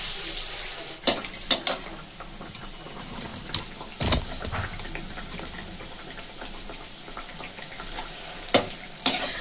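Layered nimki dough fries in hot oil on low flame, giving a continuous bubbling sizzle broken by a few sharp clinks and scrapes of a fork or spatula, close by and without talking.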